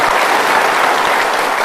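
Studio audience on an Indonesian talk show breaking into loud, dense applause, a steady wash of clapping filling the whole brief moment.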